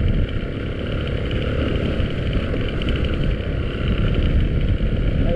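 A 4x4 engine running on dark 50-weight mineral oil drones loud and close, a steady rough idle with no pauses and no talking.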